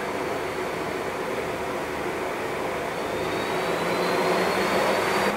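A Hainbuch lathe chuck spins at its 4,000 RPM maximum, giving a steady, dense whooshing roar with a faint high whine riding on top and no pauses or speech.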